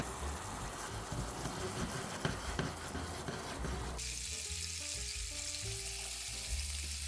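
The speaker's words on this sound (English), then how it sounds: "Then shallots, red pepper flakes, and white wine. And everything will reduce now." Shallots, red pepper flakes and white wine reducing in a pan for shrimp scampi, with a loud, steady sizzle and bubbling throughout that drops to a softer simmer halfway through.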